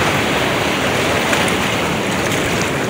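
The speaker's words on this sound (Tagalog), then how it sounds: "Lalaki ng alon oh." Big ocean waves roll and roar loud and steady around a small fishing boat out at sea, a continuous dense wash with wind buffeting the microphone.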